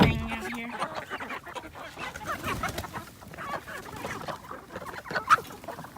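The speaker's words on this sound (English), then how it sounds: "Crazy chickens." Backyard chickens kept in a frozen winter yard alongside goats, clucking and squawking in irregular bursts at close range, with a few louder calls and scattered background noise.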